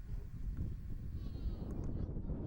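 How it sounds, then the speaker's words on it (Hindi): Sheep bleat faintly over a low rumbling background as shepherds return from a day of grazing in the Rann of Kutch, a few soft calls across a short stretch. "दिन भर रण में और इसके आसपास भेड़ें चराने के बाद गडरिये लौट रहे हैं।"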